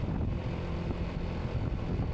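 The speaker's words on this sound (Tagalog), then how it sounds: "Tapos ang lamig na simoy ng hangin." Cool breeze sweeping across a grassy highland campsite, a steady low rushing buffet of wind on the microphone, continuous and fairly loud with no voices.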